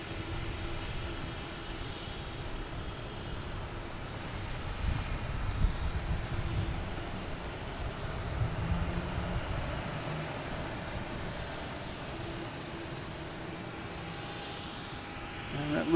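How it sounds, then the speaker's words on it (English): An Air France Airbus A350-900 jet rolls for takeoff at Boston Logan, its engines giving a broad, distant roar that swells midway and then eases into a steady far-off rumble. "And we have Air France lined up. A A350-900, flight 333, will be heading back to Paris."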